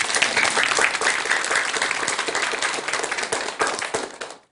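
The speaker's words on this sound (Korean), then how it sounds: "뜨거운 박수 한번 주시기 바랍니다" Warm audience applause at a Buddhist dharma talk, dense clapping that holds steady for a few seconds before quickly dying away.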